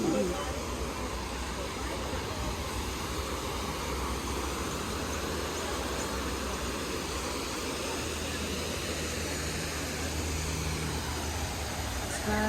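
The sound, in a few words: waterfall in a garden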